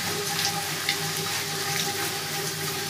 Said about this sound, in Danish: Så tænder jeg for min bruser lunken vand.